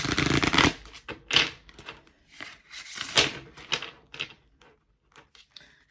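Oracle cards shuffled and tapped together before a reading, a few close, crisp papery flutters and knocks over several seconds, tapering off toward the end, with no voices.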